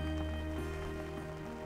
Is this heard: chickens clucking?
no